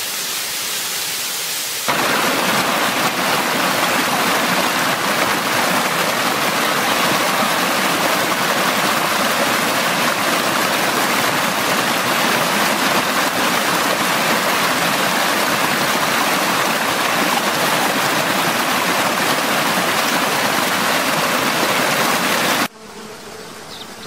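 A small waterfall with flowing water gives a loud, continuous hissing rush heard close up, holding steady for most of the stretch before cutting off near the end.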